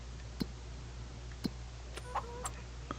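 Chickens in a coop in Farming Simulator 25 give a few scattered short clucks over a steady low ambient hum, sparse and fairly quiet with no talking.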